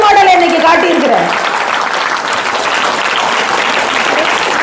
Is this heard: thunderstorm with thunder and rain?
no